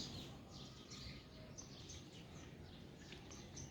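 Faint bird chirps and tweets come from a distance at sunrise, scattered calls overlapping in a quiet outdoor morning ambience with a low steady hum underneath.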